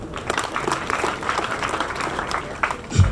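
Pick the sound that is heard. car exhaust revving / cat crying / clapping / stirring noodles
clapping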